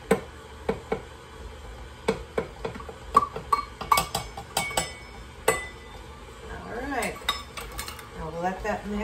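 Honey wheat bread batter gets stirred in a bowl, a utensil clinking and tapping against the sides in a quick, irregular rhythm, close and clear, with squeaky scraping toward the end.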